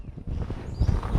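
A horse's hooves strike the ground in a few close, heavy clip-clop beats during cow-work training with a mechanical cow simulator running along a fence.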